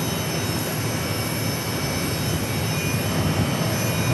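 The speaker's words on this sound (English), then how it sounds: "Starlux is making its left base final." Starlux airliner on its left base turn onto final approach at Phoenix Sky Harbor, heard as a steady, continuous broadband jet roar that holds at an even level throughout, with no talk.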